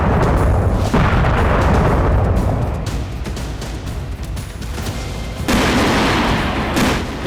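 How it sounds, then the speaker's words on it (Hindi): Heavy, continuous rumbling blasts from a Russian cruise missile strike on a Ukrainian army weapons depot in Zaporizhzhia, loud and sustained with booming bursts and crackling gunfire-like pops throughout, no voices. "रूस ने क्रूज मिसाइलों से हमला किया तो ज़ैपोरिज़िया में यूक्रेनी सेना का सबसे बड़ा हथियार गोदाम तबाह हो गया"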